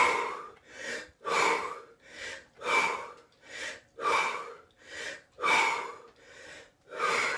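Deep, forceful breaths drawn and released in a steady rhythm, about a dozen loud close inhales and exhales with short pauses between, taken as breathing exercises before a cold shower.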